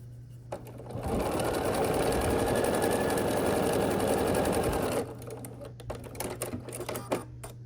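A sewing machine stitches two quilt half-square triangles together for a star block, a steady close, loud mechanical whir running about four seconds before stopping, with quieter handling noises around it.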